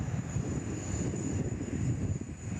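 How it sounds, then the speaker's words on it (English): An Airbus A321neo airliner at Sydney Airport gives off a steady, dense low rumble of engine noise at moderate distance, constant throughout with a thin high whine riding on top and no voices. "There's our A321neo"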